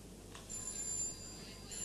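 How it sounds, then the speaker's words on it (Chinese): An old telephone rings in another room of a 1978 Hong Kong drama scene, its high electronic trill sounding faint and distant over a low room background. "啊，入边嘅电话响啊，"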